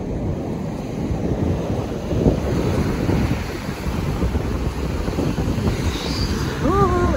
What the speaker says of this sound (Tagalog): Talagang naabot dito ang alon